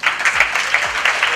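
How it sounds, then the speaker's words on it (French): At the FESTICAB 2017 film festival, a crowd applauds as godmother Marie-Philomène Nga is invited on stage, with a brief burst of steady, fairly loud clapping. "je vous invite à l'applaudir très fort"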